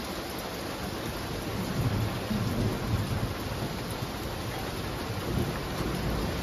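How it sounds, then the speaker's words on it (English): Steady heavy rain during a hot-weather thunderstorm, with low rumbling thunder rolling underneath and a few swells in the downpour, no voices. "Hang out for a while, see if we get some good thunder and lightning."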